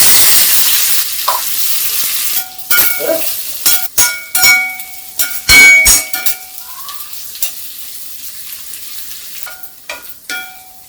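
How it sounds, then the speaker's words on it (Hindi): Onions frying in hot mustard oil with cumin, dried red chilli and asafoetida, giving a steady sizzle broken by repeated scraping and clanking as a spoon stirs the pan, with no voices. "अब प्याज को थोड़ा हम भून लेंगे।"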